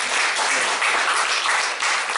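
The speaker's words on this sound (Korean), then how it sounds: "우리 한번 박수 쳐주세요." Congregation at a Sunday church service clapping together in a dense, even burst of applause that fills the room, steady throughout without any talk.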